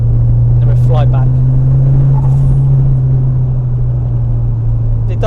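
A Fiat Punto GT engine drones with a steady low hum while driving, heard from inside the car with constant road rumble and people talking over it.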